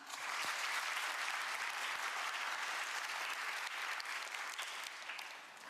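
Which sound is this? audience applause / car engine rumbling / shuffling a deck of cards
audience applause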